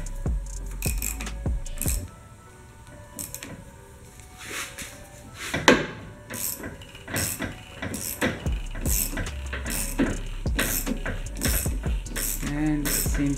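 A ratchet wrench working a deep socket to press a worn bushing out of a shock absorber eye, heard as close, irregular clicks and metallic clunks with short pauses between strokes.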